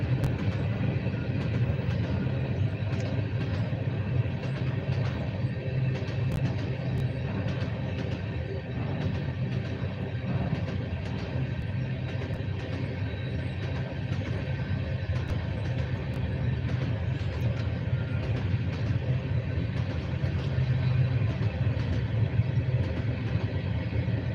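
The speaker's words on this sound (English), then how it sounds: "This is the CSX M634, by the way." CSX M634 freight train rolling past in Erie, Pennsylvania, a steady loud rumble of wheels and engine that holds constant throughout with no break.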